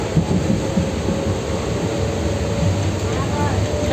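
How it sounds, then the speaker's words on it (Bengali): A steady, loud rumble of riding aboard a moving train, with continuous low rolling noise and rattle throughout and a voice speaking over it. "এই যে ট্রেনে করে যাচ্ছি"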